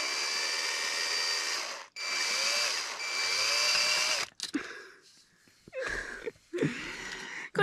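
A power drill drives self-tapping metal screws into roofing sheet metal on a greenhouse, loud whining bursts of the motor, three long runs followed by several shorter stuttering pulses.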